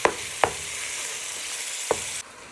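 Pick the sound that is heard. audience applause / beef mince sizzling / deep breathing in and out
beef mince sizzling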